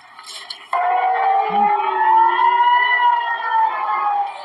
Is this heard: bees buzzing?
no